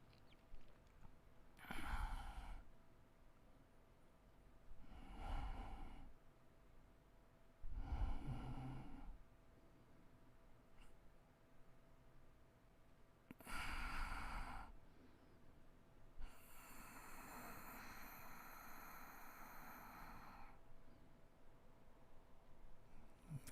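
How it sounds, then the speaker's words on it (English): During a live yoga flow, slow nasal breaths with lips sealed come in long, airy inhales and exhales, about five rounds, close and fairly loud, with a longer hissing exhale near the end. "Breathe through the nose."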